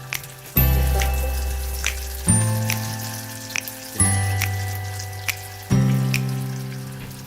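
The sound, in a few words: spring roll sheets frying in hot oil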